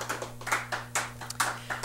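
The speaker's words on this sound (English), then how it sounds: "Give yourself a round of applause." Sparse handclaps from a small group giving themselves a round of applause, light and uneven taps scattered over a couple of seconds, fairly close and without voices.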